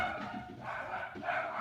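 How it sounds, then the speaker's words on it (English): Several dogs bark at a distance in short, repeated yaps, faint and muffled beneath the room's background noise. "You guys hear the dogs?"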